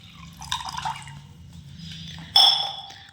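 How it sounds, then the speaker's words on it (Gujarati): A glass of water trickles and splashes into a metal pot in short bursts, with a louder gush near the end, for making pani puri water. "તપેલીમાં પાણી રેડવાનું છે"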